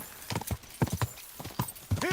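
A horse galloping in Kingdom Come: Deliverance 2, its hooves thudding in quick, uneven clip-clop bursts, loud and close, with no talking.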